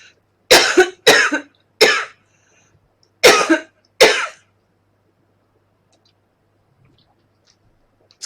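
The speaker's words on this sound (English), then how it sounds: "I'm just going to cough" An adult woman coughs five times in short, sharp bursts during a conversation, caused by a tickle in her throat. The coughs are close and fairly loud, irregularly spaced, and followed by several seconds of near silence.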